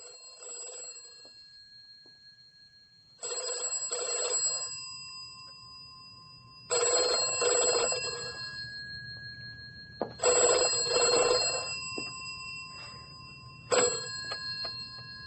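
An old-style telephone bell rings in a BBC horror radio drama, sounding four long double bursts with pauses between them against a low background hum, with no voices.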